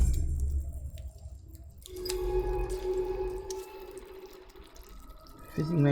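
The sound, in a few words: fizzing oxygenated water in the video game In Other Waters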